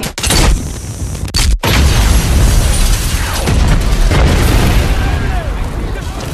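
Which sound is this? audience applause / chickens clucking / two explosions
two explosions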